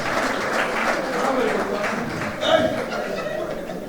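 An audience at a conference opening ceremony claps steadily for fathers, a moderate, continuous wash of applause with faint chuckles in the room.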